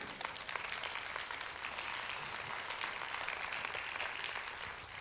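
Church congregation clapping for the Lord at an evening service, a steady wash of applause running without a break, moderately distant and fairly soft.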